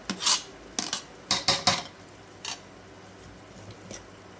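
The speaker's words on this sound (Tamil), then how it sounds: "கிளறி விட்டுக்கலாம்." A spoon scrapes and clanks against a metal pot while stirring rice and water in a biryani, several sharp knocks in quick clusters, close and distinct, then a few lighter taps trailing off.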